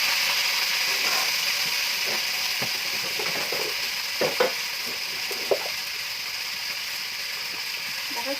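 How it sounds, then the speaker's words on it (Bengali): Crab pieces fry lightly in hot oil with salt and turmeric, a continuous close sizzle broken by occasional clicks and scrapes of a utensil against the pan. "আমি প্রথমে কাঁকড়াটা ভেজে নিলাম একটু"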